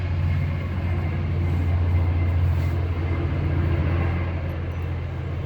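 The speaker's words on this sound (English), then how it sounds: "Had to wait for the train to go by." A passing train gives a steady low rumble and roar throughout, loud and continuous with no break and no voices.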